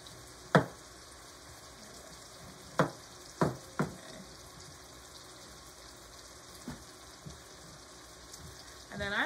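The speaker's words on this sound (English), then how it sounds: "So the easiest way I have found is to just cut both ends off like this." A knife cuts the ends off a butternut squash, giving a few sharp, separate chops and thuds on a cutting board, with quiet pauses between them against a faint background hum.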